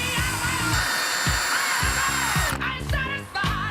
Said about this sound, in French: ça, c'est une perceuse à percussion pour percer les murs